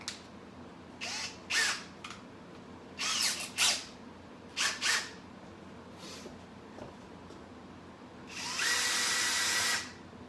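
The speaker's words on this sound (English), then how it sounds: "I have here a stir stick. This attaches to the end of my power drill." A power drill fitted with a stir stick whirs in short bursts while stirring homemade grapefruit wine, several brief revs spaced apart, then a longer sustained run near the end.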